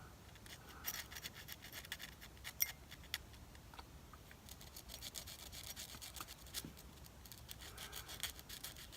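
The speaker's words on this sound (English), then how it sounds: "now I can go and clean it up with sandpaper" Sandpaper rubbing a small plastic scale-model part to clean up a trimmed tab, quiet rapid back-and-forth scratching strokes in short close bursts, faint and with no voices.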